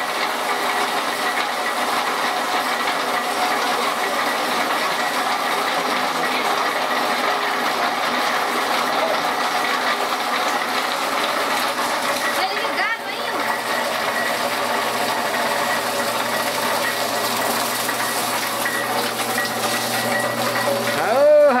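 A motor-driven sugar cane mill runs on a farm, giving off a loud, continuous mechanical whir and rattle with a steady grinding texture throughout. A brief dip comes midway, and a voice can be made out faintly.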